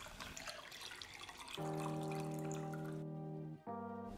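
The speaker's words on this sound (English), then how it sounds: "I start every morning with a glass of reverse osmosis water" Water running from a tap into a glass, a steady pour that rises briefly in pitch before stopping with a small clink, close by and alone.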